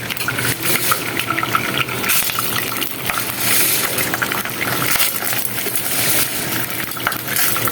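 Popcorn kernels go into hot oil in a pan, giving a rattling, sizzling rush of frying with scattered clinks and stirring, fairly loud and close, without speech.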